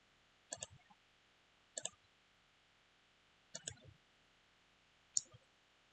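Four separate sharp mouse clicks, each a quick double tap, spaced a second or two apart while software is installed on a computer, close and alone in a quiet room.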